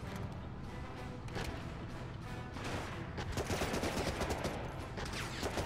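Rapid gunfire in Medal of Honor: Rising Sun on PS2, dense repeated automatic bursts and shots in a busy battle mix, growing louder toward the end.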